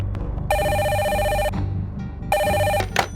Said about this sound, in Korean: 그리고 그때 상황실로 전화가 걸려왔다.